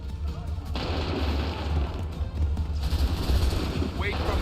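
A musket volley from soldiers in Assassin's Creed 3 breaks out as a loud, dense wall of overlapping blasts and rumbling booms that roars on throughout, with shouted commands under the noise.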